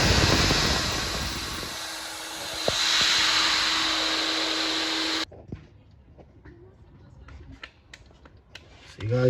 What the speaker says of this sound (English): This gun, this thing will shoot the walnut in the cylinder, and then the air pressure does the work.